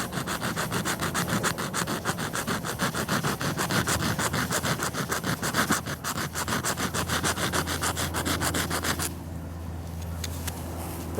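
Rapid rhythmic rasping of a multitool's hand file on a metal nail pulled from an old pallet, close and continuous for about nine seconds before stopping to a low background hum.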